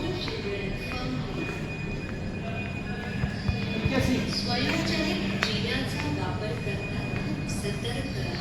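An underground train on Mumbai Metro Aqua Line 3 rumbles steadily in an enclosed station, with clanks and rattles, while people talk over the continuous noise.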